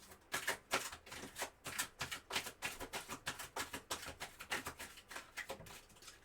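Tarot cards are drawn and laid down in a quick run of crisp, faint taps and slaps, close and fairly regular, with no talk over them.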